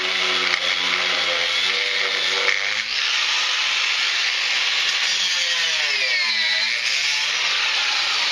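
A power tool cuts through a metal panel on an MTD Power Wheel frame, giving a loud, continuous, close whine and grinding hiss whose pitch wavers as the cut proceeds, with no talking.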